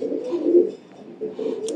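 A female Kitel line racing pigeon coos in two soft, low rolling phrases close by, with a brief lull between them and no voices.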